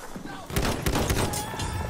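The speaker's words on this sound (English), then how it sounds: "The Lord Farquaad, it's my favorite gun in the game right here" Rapid gunfire from the Lord Farquaad gun in the video game Battlefield 1, a dense burst of close shots in quick succession, with game sounds and a voice underneath.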